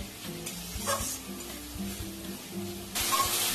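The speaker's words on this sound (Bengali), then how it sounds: "মশলাগুলো দিয়ে আমি খুব ভালো করে কষে নেব।" Spices are sautéed with a splash of water in a pan for an egg tadka, giving a continuous sizzle with clinks and scrapes of stirring, the hiss flaring louder toward the end.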